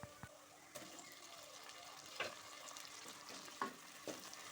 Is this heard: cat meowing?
no